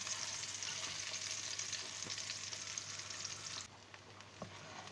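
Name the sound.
aubergine and potato frying in a pan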